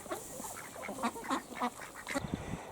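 Ducks on a smallholding quack in a rapid run of short calls, fairly faint and close, with no talk.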